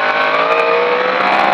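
A car on a racing track revs loudly and close as it accelerates out of a corner, the engine note rising steadily and holding strong throughout.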